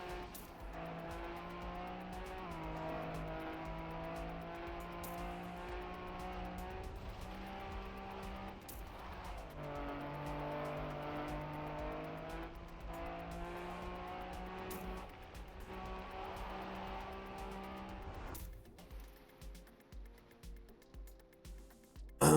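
Engine drone from a race car in the Trackmania driving game, rising and falling steadily under tire squeal for most of the stretch, then giving way to a sparser, choppier pattern near the end.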